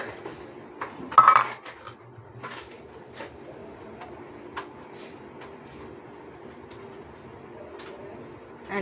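Walnuts, raisins and dates stirred together in a bowl, producing soft clinks and scrapes of a utensil against the dish, sparse and quiet with a sharper knock early on.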